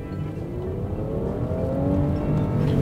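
A Honda Pilot SUV engine revving as it accelerates, with a loud steady drone that rises gradually in pitch over a few seconds.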